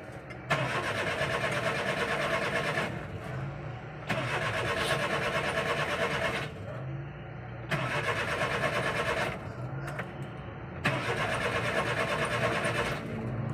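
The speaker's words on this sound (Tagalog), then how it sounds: "Yan, ayaw talagang umandar." A Suzuki Scrum engine cranks in four long starter bursts separated by short pauses and never catches, with a loud, steady mechanical churn that is close and has no talk over it.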